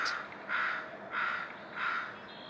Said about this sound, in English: with the occasional crow cawing